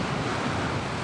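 Steady, roaring gusts of strong wind at a beach batter the microphone over a broad, rushing surf-like noise, loud and unbroken.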